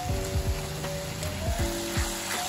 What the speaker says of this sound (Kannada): ಶುಂಠಿ ಬೆಳ್ಳುಳ್ಳಿ ಪೇಸ್ಟ್ ಮಾಡಿ ಇಟ್ಕೊಂಡಿದ್ದೀನಿ, ಅದು 1 ಸ್ಪೂನ್ ಅಷ್ಟು ಹಾಕ್ತೀನಿ. ಒಂದು ಅರ್ಧ ನಿಮಿಷದಷ್ಟು ಹುರಿತೀನಿ ಇದೀಗ.